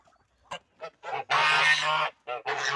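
Several loud domestic geese honking close by at morning feeding on a farm, a few short calls followed by a long sustained burst of overlapping honks, then more calls.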